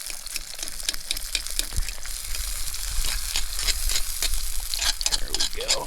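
Food sizzles in a pan over a campfire at a high-elevation truck campsite, a dense crackling hiss with frequent utensil scrapes and clicks throughout.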